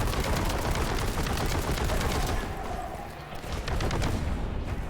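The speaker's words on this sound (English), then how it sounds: "Alright, better use the big guns on this guy." Heavy weapons fire in the Warhammer 40k: Boltgun shooter game, a loud continuous barrage of gunshots and explosions, with a brief dip in the middle before the dense firing resumes.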